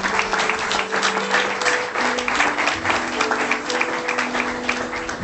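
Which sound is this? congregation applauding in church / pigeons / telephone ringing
congregation applauding in church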